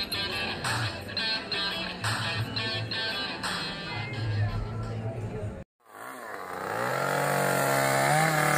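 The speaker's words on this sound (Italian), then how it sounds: "Scultore con la motosega." A chainsaw carves a wood sculpture at the Fiorinda apple-blossom festival at Castel Thun in Val di Non, outdoors in spring, buzzing loudly with bursts and dips, cutting out briefly, then revving back up to a high steady whine.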